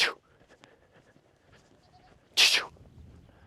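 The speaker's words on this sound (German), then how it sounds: "Das sind irgendwie nur Ziegen." Goats at a nomad camp in Mongolia, two short bleats spaced a couple of seconds apart, fairly near over quiet outdoor background.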